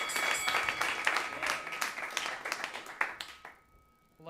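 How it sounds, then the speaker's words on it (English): A comedy club crowd in New York claps and cheers for a roast battle performer, brisk loud applause with sharp individual claps that thins out and fades near the end. "Y'all give him a round of applause"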